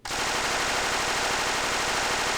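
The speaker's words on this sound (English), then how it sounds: "He's armed with the Type 100 SMG, which fires pretty rapidly. Listen to... You cannot count the bullets in there." Type 100 submachine gun in the video game Men of War: Assault Squad 2 fires one loud, unbroken burst, with rounds so rapid they blur into a continuous roar that runs through the whole clip.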